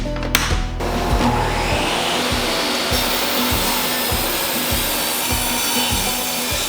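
A table saw rips a wooden board down to 3/4 inch thick for a garden caddy toolbox: a loud, steady, whining cut with a pulsing drone beneath it, running without pause and stopping abruptly.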